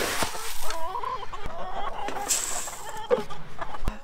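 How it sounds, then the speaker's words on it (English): Chickens cluck and chatter nearby in a steady stream of short calls, with a few sharp knocks and scattered background noise. "Come on, chickens!"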